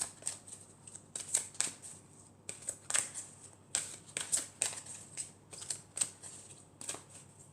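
Tarot cards being shuffled and drawn by hand, a run of quiet crisp riffles and soft slaps in uneven bursts, close and alone.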